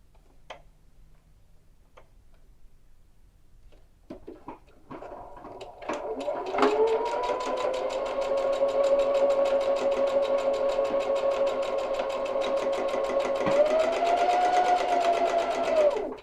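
A sewing machine topstitches a tie jacket belt, starting with a few faint clicks and taps, then running in a steady fast whir with a rapid ticking needle rhythm that shifts pitch slightly near the end.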